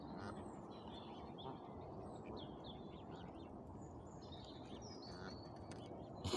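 Chicks chirp outdoors in the wild, many faint high peeps and calls scattered over a steady low background hum, no speech.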